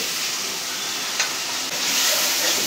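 A spice paste with hilsa fish masala hisses and sizzles loudly in a pan, a dense steady frying noise with a brief scrape of stirring partway through.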